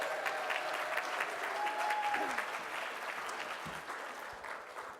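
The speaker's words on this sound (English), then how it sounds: "I like the clap" Audience applause at a single-payer healthcare strategy conference, a steady wash of clapping from a seated crowd that gently fades out.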